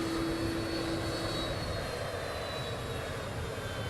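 Loud, steady roar of an aircraft jet engine at Palm Beach fills the whole stretch, with a high whine drifting across the top and no break in the noise.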